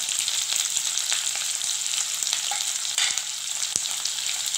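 Onion, garlic cloves and dried red chillies frying in hot oil, a steady bright sizzle close up with scattered small pops and occasional spatula taps.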